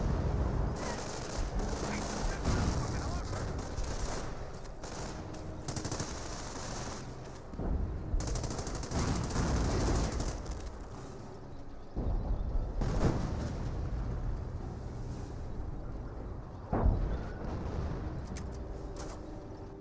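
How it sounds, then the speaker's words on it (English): Artillery barrages and gunfire in the video game Company of Heroes: rapid machine-gun rattles and heavy booming blasts overlapping in dense waves, with brief lulls between, under a commentator's voice. "More artillery barrages there."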